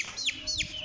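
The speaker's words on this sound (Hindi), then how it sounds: "ये हमारे लव बर्ड्स वगैरह हैं, तोते छोटे।" Lovebirds and small parrots kept as pets give two quick, high, downward-sweeping chirps, close and bright, over faint background noise.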